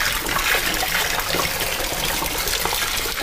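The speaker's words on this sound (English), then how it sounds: "The wine is still going. Like, how much wine is in this? It's box wine, son." Cheap box wine streaming from its spout into a mixed drink of peach vodka and triple sec, a steady close gush of liquid that splashes continuously throughout without pause.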